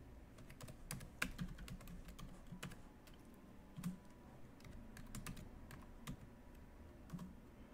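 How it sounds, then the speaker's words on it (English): A username typed on a computer keyboard during a Slackware Linux setup, quiet irregular key clicks in short bursts, close but faint against a soft background hum, no speech. "Helps to type in the right username."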